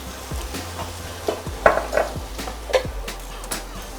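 A spoon stirs berries cooking down into a puree in a pan, with repeated scraping strokes, light clinks against the metal and a soft sizzle underneath, close and fairly quiet, with no talking.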